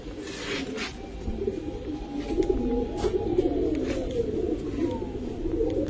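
Giribaz pigeons cooing at close range, a low, steady, overlapping burble that runs throughout with a few faint chirps above it.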